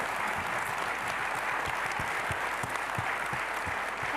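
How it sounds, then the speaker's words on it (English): Steady, moderately loud audience applause at a peace and justice talk in The Hague, many hands clapping in a dense, even patter that carries unbroken for a few seconds. "Please give them a warm applause."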